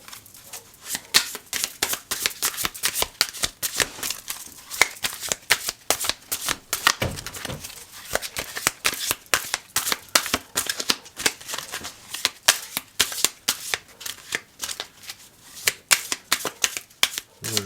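Tarot cards shuffled by hand before a four-card draw, a long run of close, rapid riffling and flicking bursts in an uneven rhythm, with a voice briefly heard.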